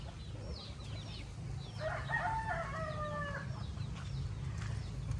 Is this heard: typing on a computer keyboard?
no